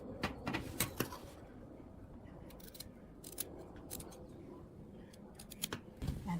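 Scissors snip through cushion fabric in repeated sharp cuts, close and fairly quiet over a steady low background.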